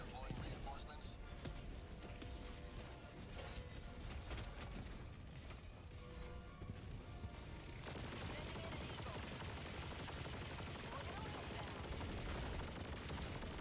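Small turrets fire in the co-op shooter Helldivers, a dense continuous clatter of gunfire and mechanical noise that runs throughout, somewhat distant and mixed with game effects and faint player voices.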